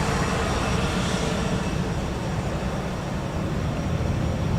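Aer Lingus Airbus A320-200 departing from runway 10R at Dublin Airport, a steady, loud broadband jet roar with heavy low rumble holding constant throughout, no voices.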